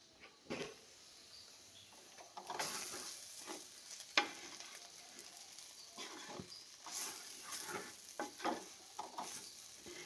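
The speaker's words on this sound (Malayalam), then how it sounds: "അപ്പം നമ്മുടെ അരപ്പെല്ലാം ഒന്ന് നല്ലപോലെ തിളച്ച് വരുന്നുണ്ട്" Gooseberry pickle paste bubbles and sizzles in a pan as it thickens, a quiet, steady crackle with soft popping and occasional sharper spatters and stirring scrapes, no talking.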